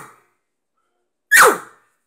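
A man imitates an elk cow's bark with his voice alone, using no calling tube: one sharp, loud, breathy bark that drops off quickly, heard alone and close.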